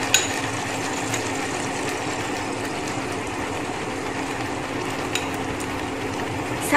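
Steady hiss of shrimp sizzling in a pan as tamarind juice goes in, a continuous broadband frying noise with a few faint clinks, no talking.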